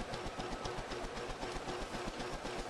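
A 1910–1930s General Electric ceiling fan running at maximum speed, a faint, steady mechanical hum with a soft rhythmic pulsing, heard alone.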